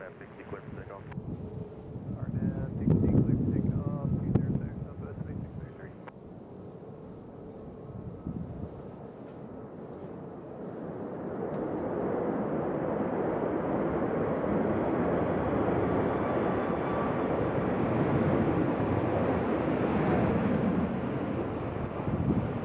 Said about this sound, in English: Here we got Delta coming in from Atlanta. See how they do landing.